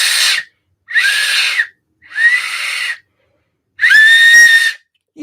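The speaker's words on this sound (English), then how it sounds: "let's see if I can get a whistle out of this thing now." An improvised emergency whistle made from a piece of a water bottle is blown in four loud, shrill blasts separated by short gaps, the last one the strongest and clearest.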